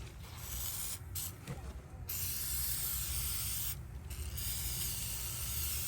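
Oven cleaner sprayed from an aerosol can onto a cosmoline-soaked No.1 Mk.3 drill purpose rifle stock, a loud steady hiss that runs almost the whole time, broken by two short pauses.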